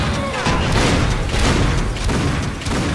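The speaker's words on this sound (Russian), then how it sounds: "лучшее оружие против боссов — это вот это вот дробовик" Shotgun blasts in the Painkiller: Hell & Damnation video game boom loudly and repeatedly over a dense battle din for the whole stretch.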